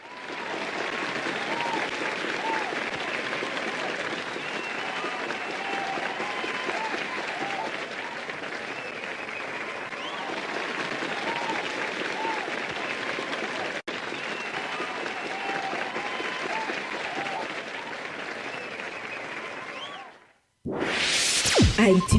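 An audience applauds in a long, steady, dense roar of clapping that holds level for about twenty seconds before cutting off abruptly, followed by a short burst of a different, brighter sound.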